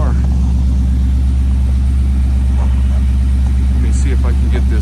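A car engine rumbles loudly and steadily at idle with a deep exhaust drone, the exhaust tapping on the bumper, someone talking faintly over it.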